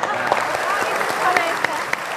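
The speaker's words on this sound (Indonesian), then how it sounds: "Tepuk tangan yang meriah dong." Studio audience applause on an Indonesian TV talk show, a steady wash of clapping with a few sharper claps standing out, moderately loud and continuous.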